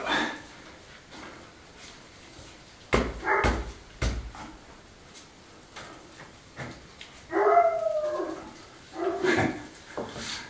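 A dog barks and whimpers in short, separate bursts at an old house built in 1870 and under restoration, fairly close, with quiet gaps between the yips.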